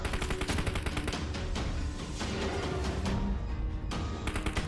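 Gunfire in PUBG during a firefight near a tower: continuous dense rattling shots with sustained loud game ambience throughout, no speech.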